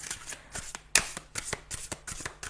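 Tarot cards are shuffled close up before a final card is drawn, giving quiet, rapid papery riffles and flicks in short repeated bursts with one sharper snap partway through.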